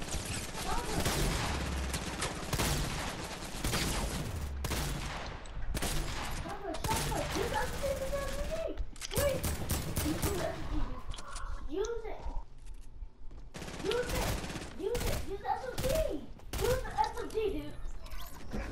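Repeated Fortnite shotgun blasts fire in sharp, loud bursts separated by short pauses, with mechanical reload clicks between shots while players talk excitedly over the gunfire.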